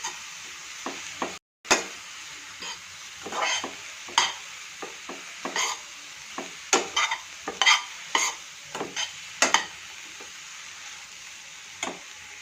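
Vegetable filling for veg momos being stirred in a pan after salt is added, with repeated scraping strokes and clinks over a soft, steady sizzle, close and moderately quiet, no talking.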